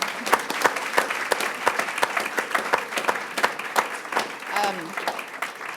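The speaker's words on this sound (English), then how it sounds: "I would just like to ask for a quick round of applause for our amazing team." A crowd at a school board meeting claps steadily in a sustained round of applause, dense and lively, with a faint voice briefly audible near the end.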